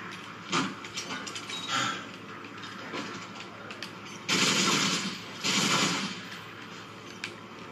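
Video game gunfire from Modern Warfare 2 rattles in rapid bursts, with two louder sustained volleys near the end over a busy background of game sounds.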